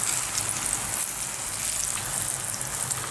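Brinjal slices frying in hot oil, a steady close bright sizzle with crackling, no voices.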